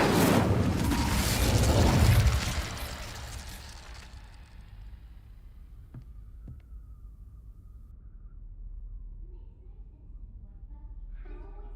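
A fire spell cast in the Hogwarts Legacy video game bursts out as a loud, fiery whoosh lasting about two seconds, then fades into quiet ambience with a few faint clicks.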